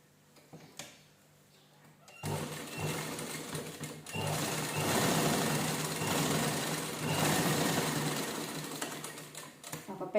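A sewing machine stitches saree fabric for a two-layer Gudi, running in long, steady, rapid bursts of needle chatter close to the microphone after a brief quiet start.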